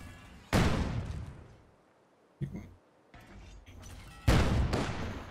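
Soviet squad weapons in a strategy video game let off several loud, booming volleys in separate bursts, each one a sharp crack with a long rumbling decay and short quiet gaps between them.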